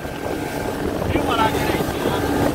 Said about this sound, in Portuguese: sente só o roncado do motor. Os 30 cavalos ali é bruto